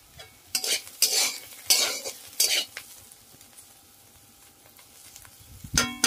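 Bitter gourd and fish fry in a pan as a utensil stirs and scrapes in several bursts, with a soft sizzle beneath and a metallic clink of cookware near the end.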